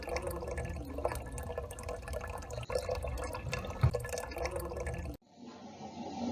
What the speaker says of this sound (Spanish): Y la velocidad de salida del agua era así.